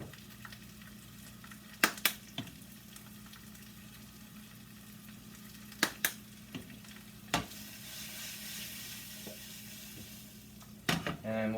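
Chicken frying in a little oil in a pan, with a steady quiet sizzle throughout and several sharp clicks and clatters of utensils against the pan scattered across it.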